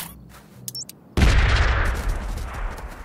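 A medium bomb in the puzzle game Cefore goes off as one sudden, loud blast after a few quiet game blips, then a rumbling roar trails away over the next two seconds.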